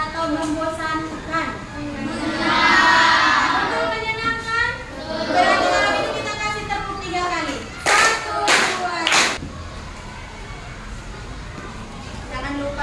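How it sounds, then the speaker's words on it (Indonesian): Brief burst of clapping from a classroom of students, applauding a classmate named Novita, following a teacher's voice; a few sharp claps stand out near the end over background chatter. "Tepuk tangan dulu untuk Novita."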